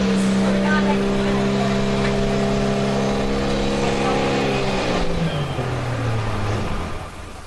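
A pulling truck's engine revs hard and loud at a truck-pulling event, a steady high drone with rising harmonics that bends downward near the end before easing off; a voice talks faintly underneath.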